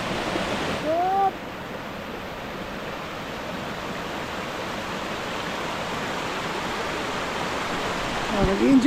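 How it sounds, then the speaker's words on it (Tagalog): Strong, fairly deep water flow at Bolaw cold spring, a steady broadband rush of flowing water close by that fills the whole clip, with a brief squeal near the start and a faint knock at the end. "medyo malalim, malakas yung flow ng tubig"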